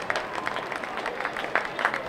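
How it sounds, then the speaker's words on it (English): A high school football crowd in the stands claps steadily for an injured player getting back up, a diffuse, moderate patter of applause heard from a distance. "Crowd's giving him a nice hand as he gets up."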